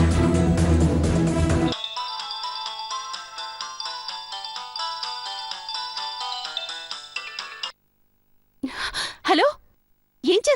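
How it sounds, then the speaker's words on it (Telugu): A mobile phone rings with a bright melodic ringtone for about six seconds in an indoor scene from a Telugu TV serial, ending in silence before short bursts of voice. "మేడం రింగ్ అవుతుంది"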